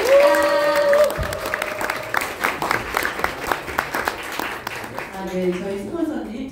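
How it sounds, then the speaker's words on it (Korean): An audience at an indoor gathering breaks into steady applause to welcome a Diamond-rank leader. Tonal music plays at the start and end, and clear claps continue through the middle. "다이아몬드 원혜영 리더님을 큰 박수 드립니다"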